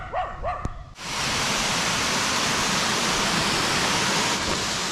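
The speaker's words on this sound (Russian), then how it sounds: "Но там прикольный водопад. Русанов ключ." Rushing water of the Rusanov Klyuch waterfall, a loud steady broadband roar that cuts in abruptly after a brief moment of other sound and then holds unchanged, close and continuous.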